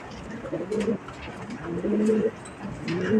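Breeder pigeons coo close by in a loft, giving several soft, low, throaty calls in quick rounds with brief pauses between them.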